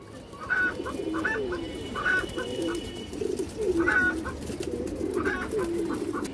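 Pigeons, a pair of fancy high-flyer breeds, coo close by in soft repeated rolling phrases that rise and fall every second or so over a low room hum, with no talking.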